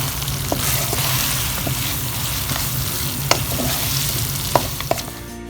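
Chicken lollipops with spring onion being stirred in a hot pan: a steady close sizzle over a low hum, with a few sharp clicks of the spoon against the pan.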